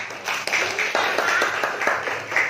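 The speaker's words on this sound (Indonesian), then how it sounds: "Ya, tepuk tangan." Students in a school classroom clapping together, a busy run of sharp hand claps with some irregular loud accents, fairly close and lasting throughout.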